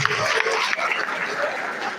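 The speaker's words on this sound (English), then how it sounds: "Please, a round of applause for this researcher." An audience at a university reward and recognition ceremony applauds an award-winning researcher, a steady wash of many hands clapping at once, fairly close and continuous for the whole stretch.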